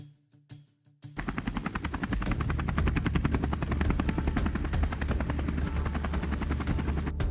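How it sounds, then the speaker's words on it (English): A military helicopter passes overhead in a Transformers game, its rotor thumping fast, loud and steady after a brief quieter opening, with no talk over it. "That's very unusual for a military helicopter to be out here."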